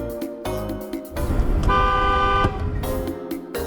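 Car horns honk in short bursts and one long sustained blast, loud and close amid road traffic, with stretches of engine noise between the honks.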